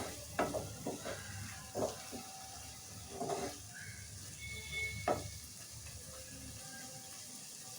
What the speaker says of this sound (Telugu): సో ఒక్క నిమిషం ఫ్రై చేస్తే సరిపోతుంది మసాలా